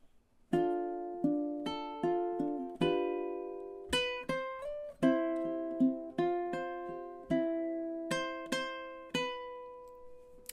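A ukulele picks the melody of the Celtic tune "Carrickfergus" fingerstyle, with single plucked notes and chords ringing out one after another at a slow, even pace, close and clear with no talk.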